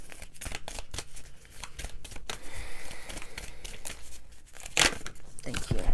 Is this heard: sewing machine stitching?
no